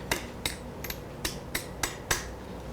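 Narrow-end hammer striking a metal shell during silversmith shell forming, seven sharp, evenly spaced taps close up in a steady rhythm.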